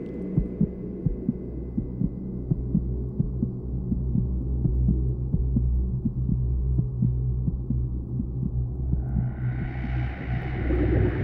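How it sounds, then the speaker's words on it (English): A steady, rhythmic heartbeat pulses throughout under a deep constant hum, heard during a dive beneath Arctic Ocean ice packs, with a brighter hiss rising near the end. "Are those my heartbeats that I'm hearing?"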